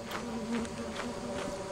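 Circuit bees in the video game Lethal Company give off a steady, faint insect-like electrical buzz that holds at a constant drone for a short moment with no talk.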